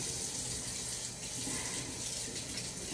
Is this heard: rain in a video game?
no